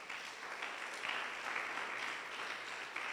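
A church congregation at a Sunday service claps together in sustained, even applause, heard at a slight distance and fairly soft throughout.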